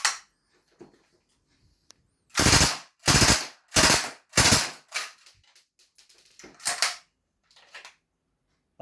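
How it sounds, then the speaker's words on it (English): A North East Sten MkII open-bolt airsoft gun fires several short, loud bursts of rapid mechanical clatter, close up, separated by brief silences, with a few small clicks before and after. "You're going to pull the trigger, it's going to chamber it round into the hop unit, boom, there you go."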